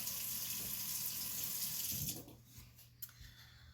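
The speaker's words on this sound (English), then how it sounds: "I have a sensor sink, a faucet" Water runs steadily from a sensor sink faucet in a close, even hiss, then shuts off abruptly partway through, leaving a quiet room with a faint click.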